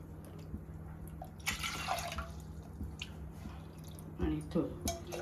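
Water tipped into a pot for modak dough: soft splashes and drips in short bursts around the middle and end, faint and close, with a quiet voice talking.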